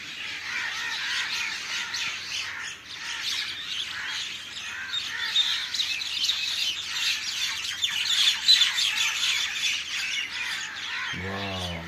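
A flock of birds chirps and squawks continuously in a big city, a dense, busy chorus rising slightly in intensity, with a voice beginning at the very end.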